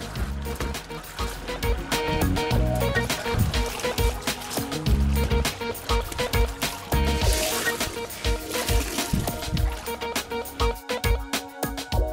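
Freshly printed Bagh-print cloth, just out of the boiling vat, is sloshed and churned in plain water, giving steady splashing and dripping with busy clattering activity throughout and no clear talk.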